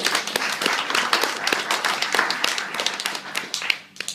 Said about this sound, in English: So we should give a big round of applause for those lovely rings.